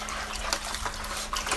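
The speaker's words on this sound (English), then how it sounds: "I'm using hot water to loosen it up before I season it" Hot tap water runs steadily over cold refrigerated meat to loosen it, a continuous close splashing hiss with no one talking.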